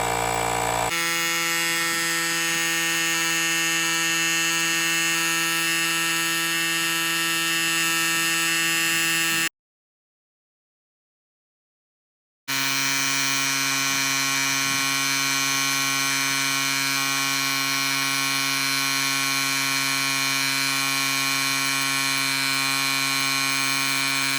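A loud, steady portable air compressor drone with a buzzing whine runs continuously while inflating a tire, cuts out completely for a few seconds, then starts again and keeps going.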